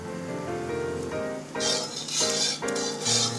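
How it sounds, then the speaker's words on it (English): Broccoli soup with cheese being whisked in a pot, a few bursts of metal clinking and scraping against the pot over background music. "I'm going to add it a little bit at a time to my soup, and I'm going to whisk it in"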